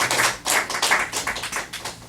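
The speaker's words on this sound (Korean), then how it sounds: "박수 주세요" A church congregation gives a short burst of applause after a prayer at an afternoon worship service. The clapping comes in uneven, close waves and fades out.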